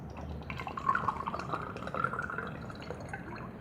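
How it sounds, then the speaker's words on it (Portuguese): Boric acid water is poured steadily into a cup for slime-making, a continuous soft trickling and filling sound at close range, with no voices. "agora vamos entornar nossa água boricada no copo"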